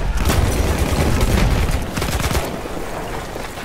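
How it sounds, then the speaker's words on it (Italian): Enemy artillery fire in a war video game booms and rumbles loudly in dense overlapping blasts, heaviest early on and easing toward a lower rumbling tail. "Attendi la fine dei colpi d'artiglieria nemici"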